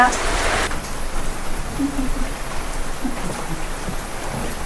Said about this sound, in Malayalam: നല്ല മഴ കേട്ടോ